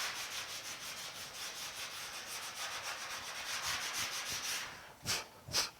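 Hand block sanding on the hood of a 1950 Chevy truck makes a steady, rhythmic back-and-forth rasp, close and fairly quiet, then ends with two louder, separate strokes.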